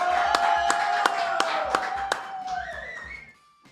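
A studio audience claps in unison to greet arriving guest Martín Rodríguez, with sharp, evenly spaced rhythmic claps under a bed of cheering and a whistle, tapering off toward the end.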